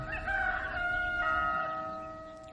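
A rooster crows a single long cock-a-doodle-doo in the Professor Layton video game, loud and close, with the call fading away at the end.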